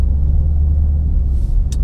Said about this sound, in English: The shift itself from second to third gear